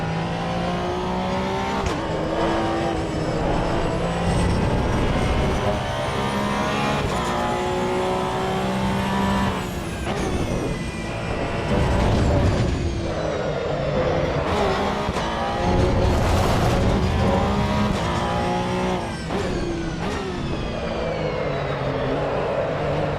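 Racing car engine in the video game Assetto Corsa Evo, a loud, steady high-revving roar with rising and falling pitch through gear changes, continuous for the whole stretch with no voices.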